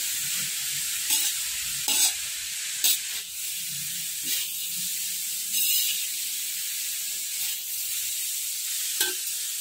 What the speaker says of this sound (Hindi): मैं इसे अच्छे से चलाऊंगी ताकि ये कढ़ाई में नीचे लगे नहीं